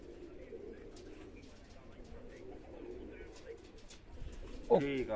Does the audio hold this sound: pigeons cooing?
yes